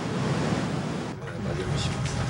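Rough, stormy waves on the East China Sea roar in a loud, continuous wash, with wind buffeting the microphone throughout.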